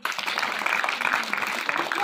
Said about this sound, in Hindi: उनके लिए विशेष तालियां